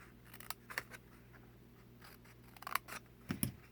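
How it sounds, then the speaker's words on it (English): Scissors snip flaps into a small cardboard box for a Valentine's treat: a few soft, quiet cuts spaced irregularly, with a faint background hum and no talking. "we're going to cut some flaps"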